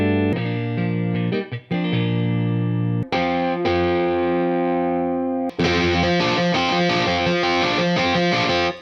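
A MusicLab RealTele virtual Telecaster guitar plays distorted, effect-laden chords and sustained notes, with sharp restrikes and ringing tails. The tone is loud and full, and there is no speech.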